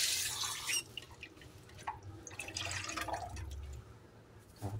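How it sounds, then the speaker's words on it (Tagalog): Chopped vegetables being rinsed under running tap water in a kitchen: a steady, close splashing trickle with small drips and clinks, heard alone. "Hugasan natin ulit."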